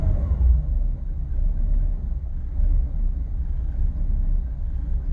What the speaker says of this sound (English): See if it'll stay idling on its own.